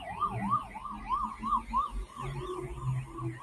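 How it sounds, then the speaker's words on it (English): Emergency vehicle siren wailing through a Sydney city street near the Chinese Garden of Friendship, a loud rising-and-falling electronic tone repeating steadily over traffic rumble, fairly close and continuous, with no talking. "Sirens, a good indication that we're still in the middle of the city"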